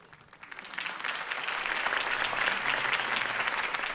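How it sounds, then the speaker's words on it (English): Crowd applause in the Batman Telltale Series video game following Harvey Dent's campaign speech: dense, steady clapping from a large audience that swells within the first second and holds loudly to the end. "If only Mr. Wayne, my campaign's largest backer, could have heard that applause"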